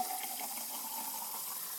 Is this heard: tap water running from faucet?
yes